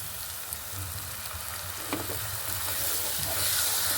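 Yogurt stirred into spice paste frying in oil for a Bengali doi katla fish curry, a close, continuous loud sizzle and crackle with occasional scraping stirs, growing slightly louder toward the end.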